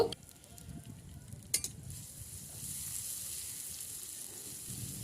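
Ground garlic, cumin and ginger paste fry in a pan, a soft, fairly faint sizzle with a few sharp utensil clicks near the start and around one and a half seconds.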